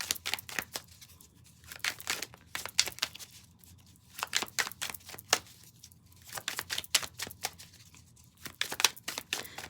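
Tarot or oracle cards shuffled and drawn by hand, a run of quick crisp flicking riffles in close bursts separated by short pauses, with no talking.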